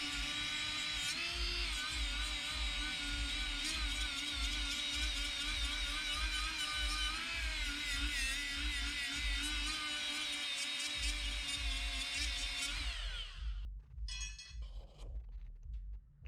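A small high-pitched rotary tool whines steadily while cleaning out the exhaust ports of an LS engine going into a Nissan 240sx, with faint clinks. The tool spins down and stops near the end, leaving sporadic scraping sounds.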